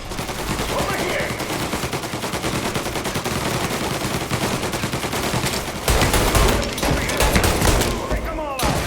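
Sustained gunfire rattles through a shootout in the Mafia Remake video game: dense machine-gun bursts and overlapping shots fill the scene, with a louder, heavier barrage after a few seconds and shouted voices mixed in.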